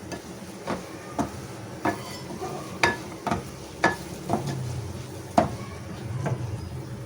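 Bitter gourd peel pickle with spices cooking in a pan: a soft sizzle beneath regular, sharp knocks of a spoon stirring against the pan, repeating roughly every half second.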